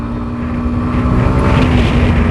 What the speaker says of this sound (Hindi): साउंड देखो एग्जॉस्ट का